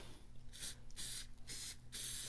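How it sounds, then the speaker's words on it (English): Spray adhesive hisses from an aerosol can in three bursts of about half a second each, close and fairly loud, with a steady low hum underneath between sprays. "I wanted to go back to my spray adhesive"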